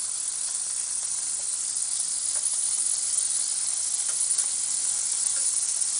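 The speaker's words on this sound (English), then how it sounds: "stand it up on its edges and sear the edges as well" Lamb chops sear on their edges in a hot pan, giving a steady, loud, close sizzle that keeps going without a break and never drops in level.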